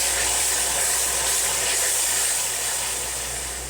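Ginger, garlic, green chili and tomato paste sizzling in a hot pan, a loud, continuous hissing fry close by, steady throughout and easing slightly at the end, with no voices.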